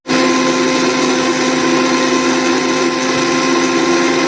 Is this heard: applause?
no